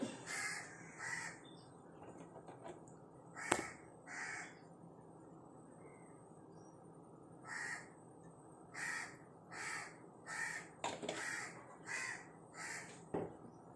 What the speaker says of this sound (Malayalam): എന്നാ കാക്ക